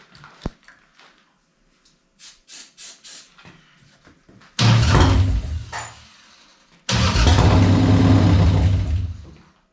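A Harley engine fitted to a golf cart is cranked: faint clicks and short churning bursts, then two loud rough cranking runs of a couple of seconds each, close by, no talk.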